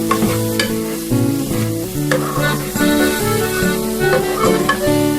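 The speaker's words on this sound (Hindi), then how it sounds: "मटर को अब हम भूनकर अच्छे से पका लेंगे" Peas stir-fried with fenugreek in a pan for a mixed vegetable dish, loud steady sizzling with repeated scraping stir strokes, close up and without talk.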